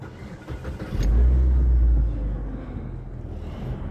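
A Mazda 5 with a worn serpentine belt and a failing alternator cranks and starts, its engine rumbling up loudly near the microphone and then settling into a steady low idle.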